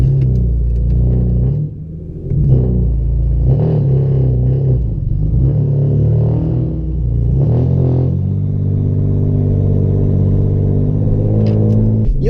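A BMW car on the move, heard from inside, with a steady loud engine drone that rises and falls as it revs through gears, heavy low rumble throughout.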